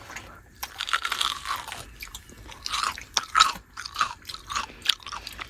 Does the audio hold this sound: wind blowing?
no